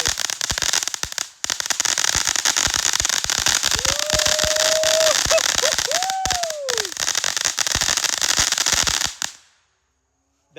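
Ground fireworks going off nearby, a dense, continuous crackling and popping with loud bursts and rising whistling tones partway through, sustained for about nine seconds before cutting out to silence.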